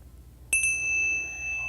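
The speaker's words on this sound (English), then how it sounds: "when you hear the sound of the bell, put your hands up on your shoulders" A bright bell is struck twice in quick succession during a children's mindful movement exercise, then rings on with a clear, sustained metallic tone that lingers steadily, close and alone against a quiet background.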